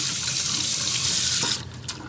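Hot water running from a tap to soak a shaving brush before lathering, a steady close hiss of flow that cuts off near the end, leaving a brief splash and faint drip.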